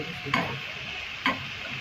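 Soft, continuous sizzle of an egg frying in oil with chutney and salt, with two brief sharp clinks of a utensil against the pan; no talking.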